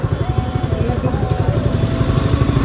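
Motorcycle engines rumble steadily nearby with a pulsing, chugging rhythm, with faint voices in the background.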